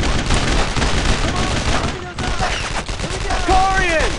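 Gunfire in the World War II video game Brothers in Arms: Road to Hill 30 at Carentan, loud and continuous with rapid rifle and machine-gun bursts, shouted voices mixed in and a brief dip midway.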